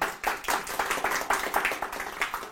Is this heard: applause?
yes